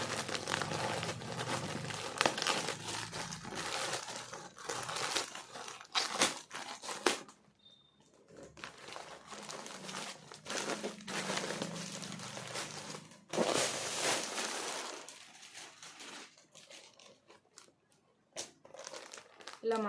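A plastic parcel holding a baby sheet is torn open and handled at close range, giving bursts of crinkling and crumpling broken by short quiet gaps.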